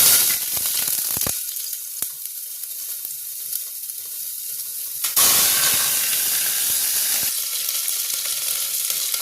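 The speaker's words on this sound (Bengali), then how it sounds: "তেলটা গরম হয়ে গেছে, এবার এর মধ্যে আমি চিকেনগুলো দিয়ে দেবো।" Chicken pieces frying in hot oil give off a loud, steady sizzle with a few clinks. Partway through, a sudden bigger surge of hissing keeps going to the end, with no talking.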